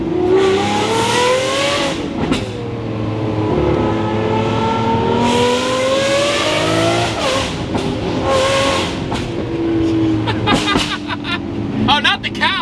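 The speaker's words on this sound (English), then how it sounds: "The scream of this V12 fits the appearance." A straight-piped Lamborghini SVJ V12 screams through repeated revs and hard acceleration, loud rising and falling wails close by, with someone talking over parts of it.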